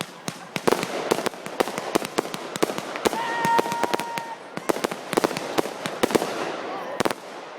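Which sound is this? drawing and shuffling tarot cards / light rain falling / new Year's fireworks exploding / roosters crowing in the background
new Year's fireworks exploding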